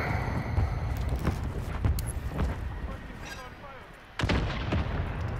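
Gunshots in a duos match of a shooting video game, with several sharp loud reports spread over a few seconds and a heavy burst near the end, set against a constant rumbling game background.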